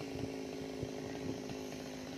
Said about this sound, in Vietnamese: Giờ chú cưa tiếp nha